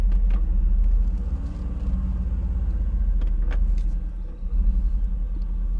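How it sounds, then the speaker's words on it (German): A Mercedes-AMG GT Roadster engine running, a steady low rumbling drone with slight swells and a brief dip, heard close from inside the car, with a few faint clicks and no talking. "Dazu muss ich aber das Auto einmal anschalten"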